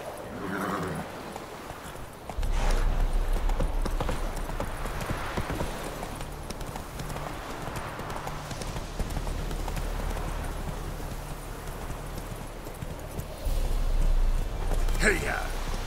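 The horse Roach walks in The Witcher 3, its hooves a steady, rhythmic clip-clop at moderate distance over game ambience, with a voice speaking over it.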